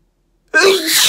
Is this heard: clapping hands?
no